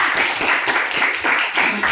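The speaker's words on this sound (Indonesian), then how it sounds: "Tepuk tangan buat Cita dan Sabila." Classroom of students clapping for two classmates, a dense, steady patter of many hands filling the room at close range for a couple of seconds.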